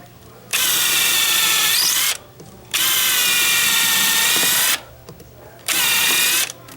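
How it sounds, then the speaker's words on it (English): A power drill whirs loudly in three long bursts, stopping briefly between each, close by. "now I can drill that in"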